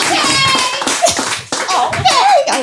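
Clapping from a live-show audience breaks out in scattered bursts, mixed with close talking and a little laughter throughout.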